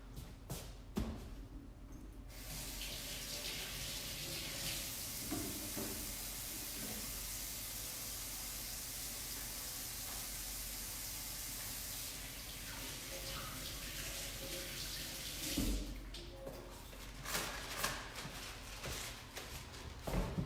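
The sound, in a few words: washing hands under running tap water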